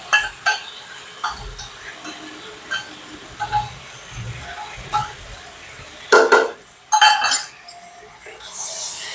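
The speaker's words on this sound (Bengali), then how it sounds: "তো আমি আদা রসুন কাঁচা লঙ্কার পেস্টটা দিয়ে দিলাম।" Ginger, garlic and green chili paste being stirred in a pan while cooking kosha mangsho, with scattered spoon clinks and scrapes against the metal, a few louder knocks near the end, and a voice speaking intermittently.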